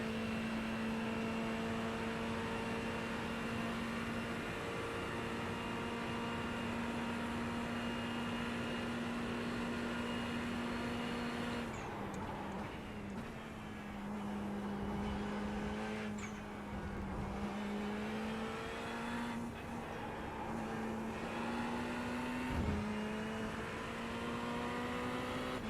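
Racing car in a video game at Spa, a continuous high-pitched engine whine held steady, then wavering with gear shifts and brief dips as the car slides, fairly faint.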